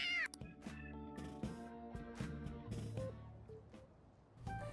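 A cat in the video game Persona 5 Royal lets out a brief, sharp meow at the very start, followed by layered game music with plucked and sustained tones continuing steadily with no talking.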